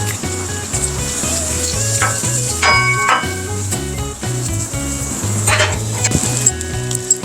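Bacon sizzles steadily on a flat griddle for a smash burger cook, a loud continuous frying hiss with scattered utensil scrapes and clicks over a steady backing music beat.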